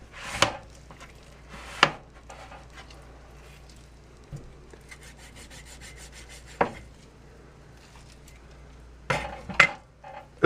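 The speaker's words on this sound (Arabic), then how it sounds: "قص من ناحية اللحم الطري. لما بحس في عظمي بحاول العب حواليها بشكل" A knife cutting up a raw chicken on a board, working around the bones, gives sharp chops and knocks at scattered moments with quieter scraping and handling noises between, close and alone with no talk.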